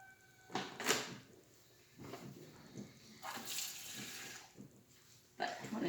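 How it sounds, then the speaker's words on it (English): Water trickles in short, uneven splashy bursts into crumbly naan bread dough in a kitchen bowl, poured slowly a little at a time, close and moderately loud. "I'm gonna have to add a little bit more water to mine"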